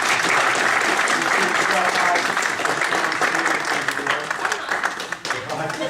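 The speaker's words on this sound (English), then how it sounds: "bring on applause" An audience applauding after a live song, a dense, sustained burst of clapping that stays loud and then thins and fades toward the end.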